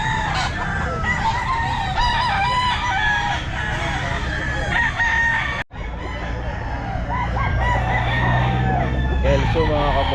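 A Kelso gamefowl rooster at a Grotto pet market crows amid a busy crowd of other roosters and clucking fowl, with constant market chatter and voices throughout.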